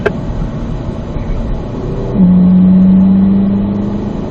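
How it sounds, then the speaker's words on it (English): A car engine revs up and holds a steady, loud drone as the car accelerates out of a turn on a driving course, following a quieter stretch of road and tire noise. "Unwind, accelerate out."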